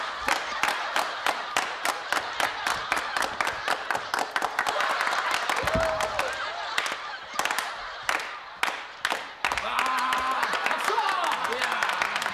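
A crowd doing a rhythmic 'jjajangmyeon' clap, with sharp unison handclaps repeating in a fast steady pattern that briefly loosens midway before resuming, with voices calling out faintly in between.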